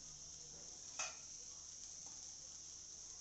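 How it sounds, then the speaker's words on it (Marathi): A breakfast dish roasts in a pan with oil or butter, giving a faint, steady sizzle. There is one brief clink of a utensil partway through. "लालसर खमंगाचा भाजून घ्यायचा आहे कडेने तेल तू बटर लावू शकता"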